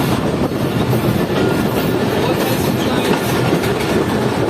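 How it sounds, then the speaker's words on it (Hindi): A Pakistani passenger train runs at speed while an approaching rail car passes on a parallel track, a loud continuous roar and rumble of wheels and carriages heard from on board, with no speech. "107 अप आ रही है रेल कार और हमारी ट्रेन भी पहुंच रही है।"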